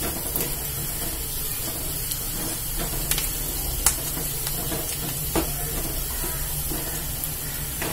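Onions browning in hot oil for a Tamil tamarind kuzhambu, a loud, close, continuous sizzle and hiss with a few sharper pops and crackles throughout and no voices.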